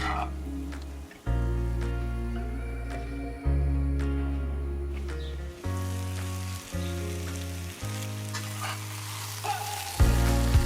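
Potatoes fry in oil in a pan for fry aloo, a steady sizzling hiss with occasional stirring, largely covered by louder tonal background music throughout.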